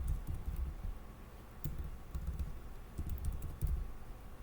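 Typing on a computer keyboard, quick irregular bursts of soft key clicks at close range, with no voices over them.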